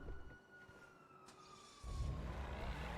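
A police siren in a GTA V roleplay session sounds as a faint, steady wailing tone that slowly glides downward. A low rumble of traffic or engine noise rises underneath partway through.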